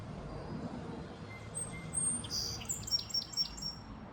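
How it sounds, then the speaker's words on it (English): Birds chirp in short high tweets during an outdoor walk beside moving water, a few calls clustering toward the end over a steady low rumble of background noise. "I see a bird."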